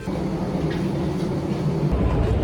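Rumbling, clattering noise of a metro train at an underground station entrance in Istanbul, steady and loud throughout with no talking.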